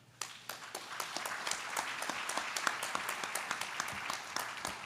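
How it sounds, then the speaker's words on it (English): Audience applause after a West Virginia leadership panel session, a dense, steady wash of many hands clapping at moderate level for about five seconds, with no talking over it. "another round of applause for our West Virginia leadership panel"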